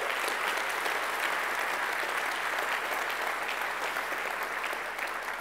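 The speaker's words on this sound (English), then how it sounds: "Huge round of applause to all the contestants." An audience gives a big round of applause to contest entrants at a software conference closing keynote, dense steady clapping filling the whole stretch without letup.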